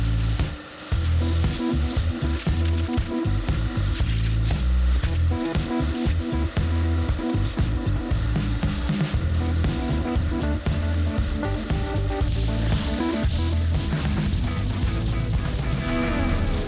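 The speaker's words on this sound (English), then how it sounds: "It's time to hook up the extractor, flush out 25 years of nightmare stains" An upholstery extractor flushes decades-old stains out of a Pontiac Trans Am seat foam, giving a continuous wet sucking and spraying noise with rhythmic squelching pulses and a steady motor hiss throughout, close and loud.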